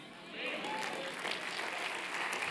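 A church congregation breaks into applause during a sermon, moderate steady clapping rising after a brief quieter start, with a voice mixed in underneath.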